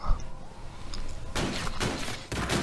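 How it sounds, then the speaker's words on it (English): Bursts of gunfire in a first-person shooter game as a window gets shot out, with a quiet stretch followed by several loud broadband volleys in the second half. "Once you're lined up, you can start shooting the window."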